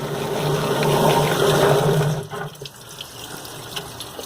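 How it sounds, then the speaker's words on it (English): A tap runs steadily with broadband water noise for about two seconds, then cuts off abruptly, leaving faint drips and room sound. "Turn the water off."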